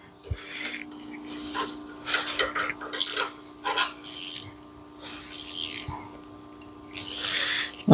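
A ratchet wrench clicks in short bursts on bolts on the chassis of a 1957 Chevy Bel Air, the intermittent ratcheting close and fairly loud, with mechanical clanks between strokes.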